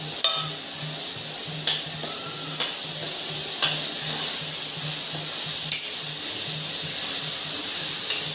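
Onion, tomato and Kashmiri red chili frying in oil in a pan, a steady soft sizzle with a low bubbling hum and periodic sharp clicks of a spoon stirring against the pan.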